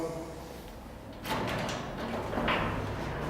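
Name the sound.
garage door being opened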